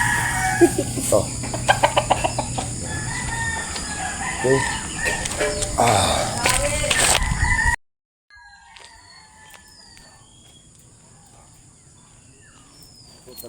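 A chicken, fed stale bread, clucks and crows amid outdoor bustle with short spoken remarks, the sound stopping abruptly partway and leaving faint, distant bird calls.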